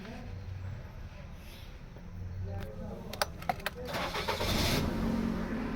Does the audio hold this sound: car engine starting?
yes